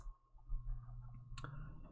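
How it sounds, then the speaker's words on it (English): A computer mouse gives a single sharp click near the end, with faint softer ticks before it over a quiet low room hum. "By simply right-clicking your taskbar, click Task Manager"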